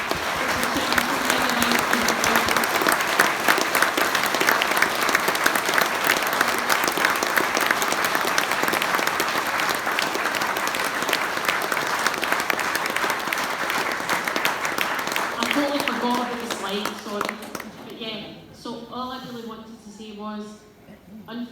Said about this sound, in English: I would like if you would just join me in a round of applause